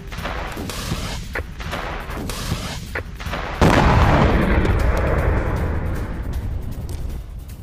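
Gunfire from Pakistani army troops attacking Afghan soldiers at a border post, heard as loud, distant booming and rumbling bursts with crackling shots, building into a dense sustained roar partway through.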